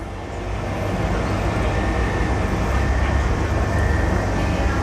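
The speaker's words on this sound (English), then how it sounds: "a super modern, I believe it's a new Pesa tram from Poland" New Polish-built Pesa tram running on a Sofia street, a steady broad rumble and rolling roar with a faint high whine, loud and close throughout.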